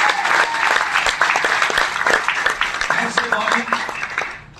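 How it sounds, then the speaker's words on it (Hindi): A seminar audience gives loud, lively applause, with dense clapping from many people throughout that fades slightly toward the end. Voices appear to mix into the crowd noise. "एक जोरदार तालियां धीरज सर के लिए।"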